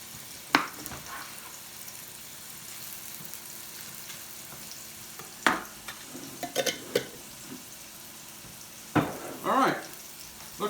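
Cheesesteak filling with melted provolone is stirred in a frying pan, a low steady sizzle broken by a few sharp scrapes and clatters of the utensil against the pan. There is no talk.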